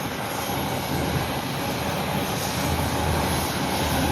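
Tractor pulling a trailer away through a tall maize field, giving a loud, steady engine drone with broad rumbling noise that holds evenly throughout.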